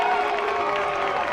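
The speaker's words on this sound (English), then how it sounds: "Crowd gets going." A college football stadium crowd at a Lions vs MSSU game (Lindenwood) roars steadily as the offense lines up near the goal line, a dense, sustained wall of cheering and applause with no break.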